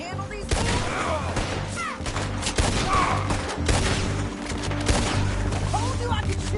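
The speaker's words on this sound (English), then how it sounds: "Told you I could shoot a gun, didn't I?" Gunfire in a PS4 video game shootout, with rapid bursts of overlapping shots and booms forming a continuous loud fusillade, mixed with game voices talking underneath.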